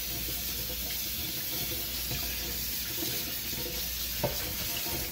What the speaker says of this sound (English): So we'll rinse off these quarters and then start taking them apart.